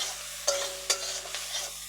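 Ingredients for fried rice frying in a pan with oil, a low sizzle broken by two sharp scrapes and a few lighter clinks of a spatula being stirred, close and quiet with no voices.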